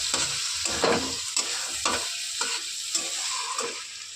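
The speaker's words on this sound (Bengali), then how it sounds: "এবার এই মশলাটাকে ভালো করে কষিয়ে নেব।" Spice paste and potato-curry masala fry in a pan with a continuous hiss, broken by rhythmic scraping strokes of a spatula stirring it every half second or so, close and fairly loud.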